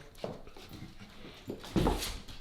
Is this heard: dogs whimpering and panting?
yes